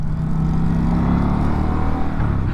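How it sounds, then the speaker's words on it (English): A 2024 Indian Pursuit Dark Horse motorcycle engine runs at a smooth steady idle, a close, low rumbling purr with even pulsing and no talking. "that engine, man, it just purrs"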